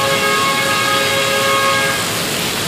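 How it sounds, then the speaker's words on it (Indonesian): Loud, steady rumble of a train passing close by at night, with sustained whistle-like tones running through the first two seconds and no voices. "Kayak kereta api sih suaranya."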